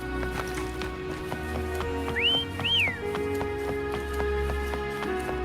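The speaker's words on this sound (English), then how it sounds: "Try whistling." A melodic two-note whistle in the video game Wuthering Waves, made of two short rising-and-falling tones over game ambience, with hoofbeat-like clip-clop and a low drone underneath.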